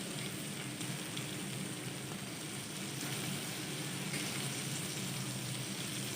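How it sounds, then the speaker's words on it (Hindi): Beef liver (kaleji) frying in ghee in a pan, with green chillies about to be added, gives a faint, steady crackling sizzle that runs evenly and unbroken throughout. "3 से 4 मिनट के लिए भून लेंगे कलेजी को अच्छी तरह"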